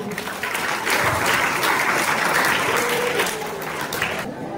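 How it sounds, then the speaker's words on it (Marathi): Loud, sustained applause from the audience at a fort-building competition prize ceremony, a thick continuous roar of many hands clapping that runs for several seconds before tapering off near the end. "तुम्ही स्वतःसाठी जोरदार टाळ्या वाजवायचे"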